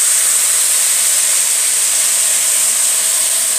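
Water poured into a hot pot of rice frying in oil gives a loud, steady, broadband sizzling hiss with no break, close by and with no talking.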